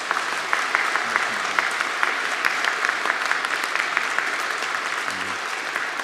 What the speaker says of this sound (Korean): 우리 세실 성가대를 축복해 주시고 또 여러분 감사한 마음으로 한번